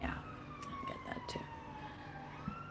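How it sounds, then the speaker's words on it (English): A police siren passes outside, its wailing tone sweeping down in pitch at moderate distance beneath a conversation, with someone speaking briefly over it. "Oh, sorry about the siren."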